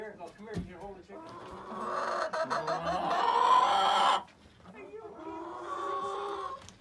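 A chicken on a farm clucks and squawks loudly up close, a few sharp calls followed by a sustained, rising cackle, then another stretch of clucking, with people talking around it.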